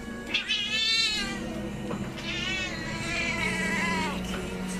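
A cat gives two long, drawn-out, wailing meows close by, the second stretching on for several seconds, over a faint steady background hum.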